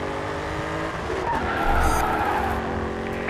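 Race car drifting with sustained tire squeal in the Grid 2 racing video game, engine roar steady and loud throughout, squeal swelling briefly midway.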